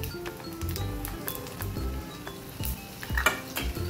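Cumin, garlic and green chili sizzle steadily in hot oil for a tadka, with a spoon occasionally clinking against the pan over the continuous frying hiss.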